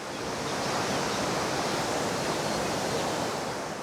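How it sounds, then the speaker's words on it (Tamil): Water rushes steadily at a lodge in Bhutan's Phobjikha Valley. The flow makes a loud, continuous broadband roar that holds unbroken throughout, with no voices. "இங்கேருந்து தண்ணி ஓடுது. சவுண்டே அழகாக இருக்குதுங்க."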